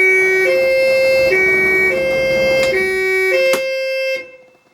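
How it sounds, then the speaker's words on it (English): A European two-tone fire brigade siren sounds on a 1968 UK-built Ford Transit fire truck, loud and close, alternating high and low tones steadily for about four seconds before cutting off abruptly. "it does have the siren that's functional"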